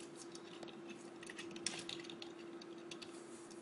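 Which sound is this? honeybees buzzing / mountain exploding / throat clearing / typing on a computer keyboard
typing on a computer keyboard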